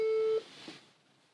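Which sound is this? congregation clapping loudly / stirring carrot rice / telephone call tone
telephone call tone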